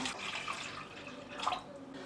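Water splashes and gurgles as it is poured into a pan of sautéed chicken lollipops, a fairly quiet, steady trickle with a couple of brighter splashes.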